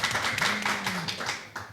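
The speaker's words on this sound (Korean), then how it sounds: "박수 쳐주십시오" Brief scattered clapping from attendees at a Korean residents' general assembly after a voter turnout announcement, a short burst of hand claps under a faint voice.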